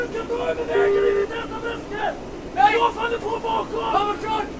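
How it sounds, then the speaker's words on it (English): Radio station chatter tuned in the cockpit of a J-11A jet in the DCS World flight simulator, a muffled, crackly stream of voices running continuously at moderate level. "That sound is because we're tuned into a radio station"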